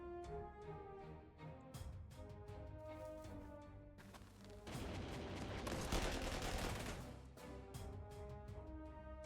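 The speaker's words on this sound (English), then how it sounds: "And this is a Breda gun." Breda machine gun fire in a Panzer Corps 2 wartime strategy game set in Sicily: repeated sharp bursts over a steady battle backdrop, building to a denser, louder volley midway before easing off.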